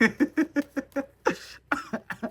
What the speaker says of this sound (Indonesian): Batuk gue.